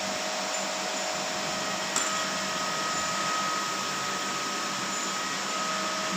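A water bottle blow-moulding machine in a factory gives off a steady loud hiss and whine of pressurised air as it inflates bottles. There is one brief click near the start, and the sound continues unbroken throughout.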